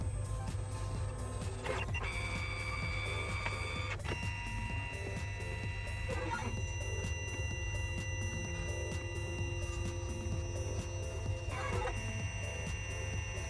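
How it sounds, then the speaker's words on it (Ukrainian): A cutting plotter slices hydrogel screen protector film, giving a steady mechanical whir with repeated motor sweeps and short shifts in pitch as the blade head travels, no voices. "Подивимося під процес самої порізки."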